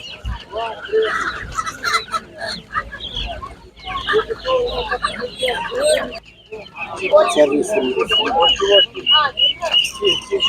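Poultry at an animal market in Ivano-Frankivsk, with guinea fowl among the birds, clucking busily and continuously close by, layered with crowd noise and people talking throughout.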